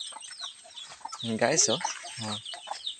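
Native chickens on a small farm cluck and call in short, loud bursts close by, mixed with a person talking briefly.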